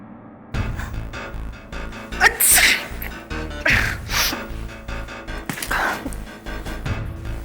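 A person sneezes loudly and close amid a busy scene with music and background sound, during an Indian courtroom crime drama investigation.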